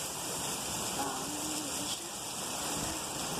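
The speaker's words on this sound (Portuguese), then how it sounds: "Olha a chuva." Steady rain falls in Mairiporã, a constant even hiss and patter that fills the clip without pause.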